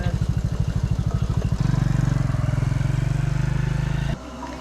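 A motorcycle engine chugs with a fast, regular pulse, shifts to a steadier, louder drone as it pulls off, then drops away sharply, leaving quieter background; heard up close at night with no talk.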